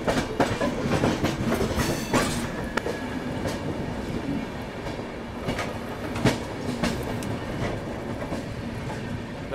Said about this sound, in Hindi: बीच में डिस्टर्बेंस के लिए लखनऊ शताब्दी आ चुकी है